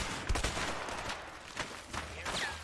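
Shotgun blasts in the video game A Way Out ring out as several sharp, fairly faint shots spaced over a couple of seconds, with background noise between them.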